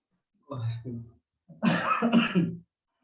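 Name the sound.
coughing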